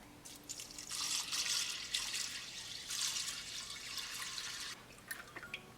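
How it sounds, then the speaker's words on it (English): Milk pours from a gallon jug into a crock pot, a soft, steady splashing stream in two long pours with short pauses, fairly faint and close. "So we're going to pour milk inside."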